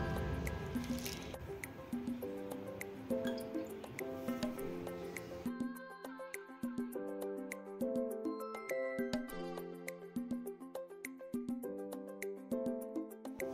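Water dripping and trickling over a Shiva lingam in a home shrine, as water brought from the Kumbh is offered, giving a steady run of small, close droplet taps with soft splashes and no talking.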